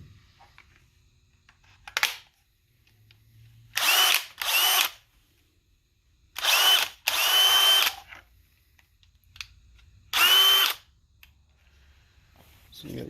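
A DeWalt 20-volt hammer drill from the DCK2100D1T1 kit fires in short bursts, about six quick trigger pulls of under a second each with quiet pauses between, close and loud.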